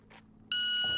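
Electronic shot timer on a handgun range gives one loud, steady high-pitched tone that starts abruptly and holds to the end, with no talking.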